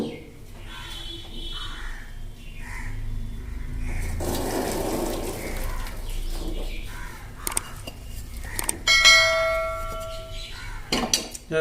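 Blanched green peas are drained through a strainer into a bowl in a home kitchen, with a gushing pour of water, clanks of metal pots and utensils, and a few faint bird calls nearby.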